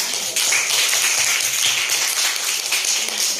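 A classroom of students claps for their classmates at a teacher's prompt, a dense, steady patter of many hands lasting several seconds, fairly loud and close with no talking over it.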